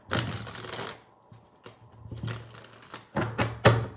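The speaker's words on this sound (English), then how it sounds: "I'm not getting a clean shuffle" Tarot cards being shuffled up close in several quick riffling bursts with brief pauses and soft thumps between them.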